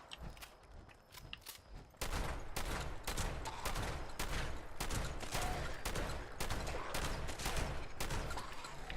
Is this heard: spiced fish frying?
no